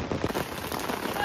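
Rain falls steadily in a dense, continuous patter on surfaces, close and even throughout the short stretch.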